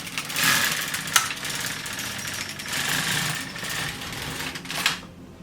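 An LK150 knitting machine carriage is pushed across a joining row while knitting shorts. It makes a loud, close, whirring, rattling sweep that swells and fades in a few passes before stopping abruptly.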